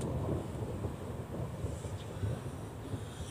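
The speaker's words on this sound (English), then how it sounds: "That's the longest thunder I've ever heard." Thunder rolls as a long, continuous low rumble that never breaks for the whole stretch, steady and fairly distant, with wind buffeting the microphone and no voices.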